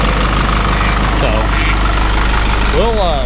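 Isuzu chipper truck diesel engine idling steadily and loudly up close, a constant low rumble with a faint whine rising near the end.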